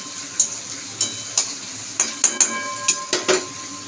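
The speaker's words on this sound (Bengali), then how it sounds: "পেঁয়াজটা একটু ভাজা ভাজা হবে" Onions sizzle quietly in a pan under a series of sharp, irregular clinks of a spatula stirring against the metal, for an ash gourd stem stir-fry.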